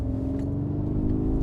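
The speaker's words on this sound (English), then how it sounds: "makes like a V8 noise. It's called G-Roar, and it's a signature sound." Synthetic V8-style G-Roar engine sound from a Mercedes EQG electric G-Wagen as it accelerates, a steady, loud low hum with layered harmonic tones rising slightly, alone with no talking.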